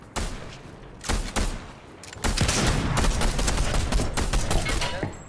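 Several sharp gunshots crack out, then a sustained burst of rapid fire in Fortnite; loud, close, and dense with echo.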